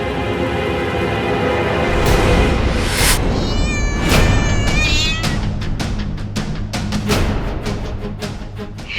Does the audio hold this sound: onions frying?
no